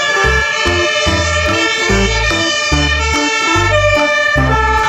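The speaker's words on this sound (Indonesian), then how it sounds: "lihat teman-teman, ada mobil pemadam kebakaran." A toy fire truck siren plays a steady, loud electronic wail with a pulsing rhythmic tone beneath, running continuously and close by with no talking.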